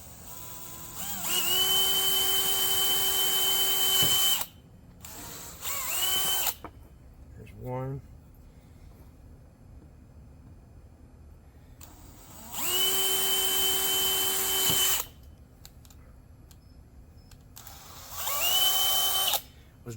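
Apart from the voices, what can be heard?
power drill drilling holes for a flounder light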